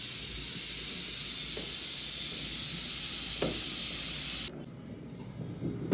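Cumin and mustard seeds hit hot oil in a pan, giving a loud, steady frying hiss that runs for several seconds before cutting down sharply to a quieter crackle.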